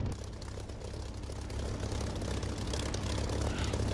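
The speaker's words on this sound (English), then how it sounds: "the engine sound that I'm using is not the sound that you get from DCS. It's a sound produced by Echo 19" A Spitfire aircraft engine idling before takeoff in the DCS flight simulator, using an Echo 19 engine sound mod: a faint, steady low drone that swells slightly toward the end, with no talking.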